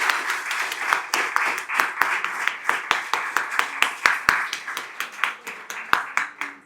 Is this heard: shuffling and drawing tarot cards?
no